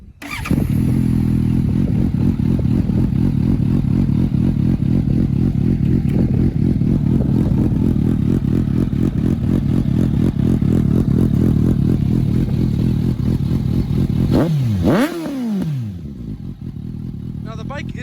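A warm 2019 Suzuki GSX-S750 motorcycle starts up and settles into a steady, loud, close-up idle with a rough rhythmic thrum, then briefly revs near the end.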